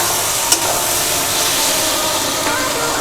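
Fish head masala sautéing in oil for a cabbage ghonto, a steady loud sizzle and hiss throughout with a quick stir clink near the start.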